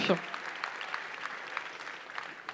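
A sports awards ceremony audience applauds a club's historic promotion to National 2, a fairly dense wash of clapping at middling distance that carries on evenly after a brief voice at the very start.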